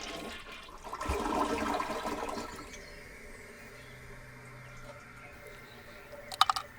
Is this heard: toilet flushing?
yes